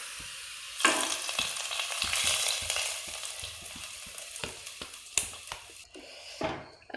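Golden-fried onions tipped into a pot of chicken stew set off loud, steady close sizzling, broken by scattered clanks and scrapes of stirring, with no one talking.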